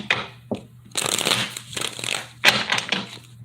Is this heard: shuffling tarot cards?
yes